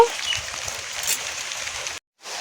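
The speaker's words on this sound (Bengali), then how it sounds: "মাছ কাটতে কাটতে বাইরে বৃষ্টি চলে এসেছে" Steady rain falls outside as a soft, continuous patter, cutting out briefly near the end before returning.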